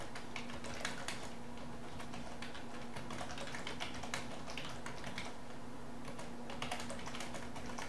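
Computer keyboard clicking as a database query is typed, quick irregular keystrokes in short bursts, faint and close, with a low steady hum beneath.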